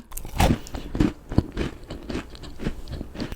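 Someone bites into and chews a salty vanilla pecan protein bar topped with chocolate and pecans, producing close, crisp crunching bites and irregular chewing at a fast rhythm, with no talking.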